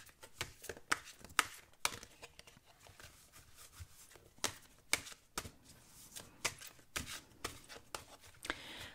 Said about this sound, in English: I'm going to go ahead and give these cards a shuffle